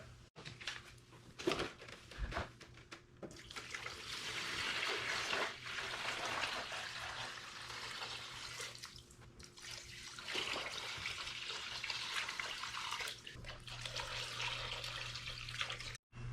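Water runs steadily into a container over a rib roast for a long stretch, a soft continuous pouring rush with a few brief pauses and clunks.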